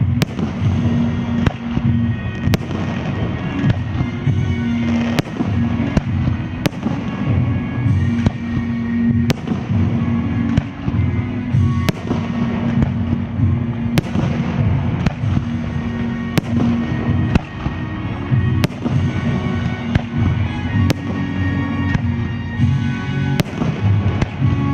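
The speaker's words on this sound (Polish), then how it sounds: "Był też pokaz fajerwerków, który zakończył uroczystości Dnia Niepodległości." A fireworks display closes an Independence Day celebration in Poland, with a continuous loud crackle and rumble punctuated by sharp booming bursts at irregular intervals over nearly half a minute.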